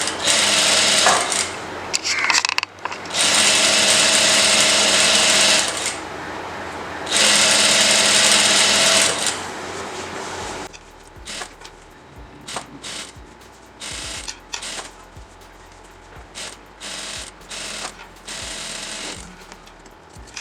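A sewing machine stitches a blouse collar, running in long steady whirring bursts, then switching to shorter stop-start runs of stitching with faint handling noises between them.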